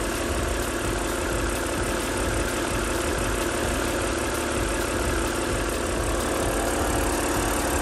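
A BMW N52 inline-six in a 128i, logging a 2A7A fault code, idles with a steady Vanos rattle and a diesel-like clatter, loud and close throughout with no talking.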